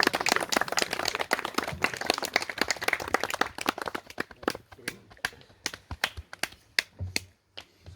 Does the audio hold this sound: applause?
yes